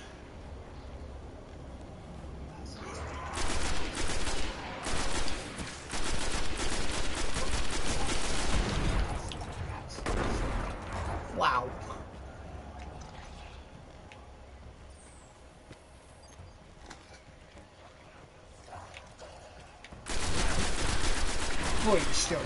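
Gunfire in the video game Destiny: bursts of rapid automatic shots and fusillades come in loud clusters with quieter gaps between, and a final heavy burst near the end.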